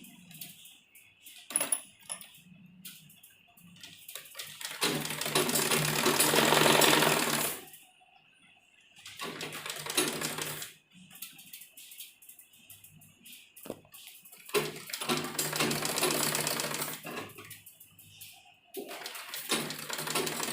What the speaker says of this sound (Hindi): इसके चारों तरफ हम एक सिलाई लगाएंगे